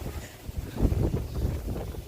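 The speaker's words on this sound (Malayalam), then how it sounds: "നോക്കിയിട്ട് നല്ല കാറ്റുണ്ട്" Strong wind buffets the microphone on top of an exposed rock, a low rumbling roar that swells and eases over a couple of seconds, with no voices.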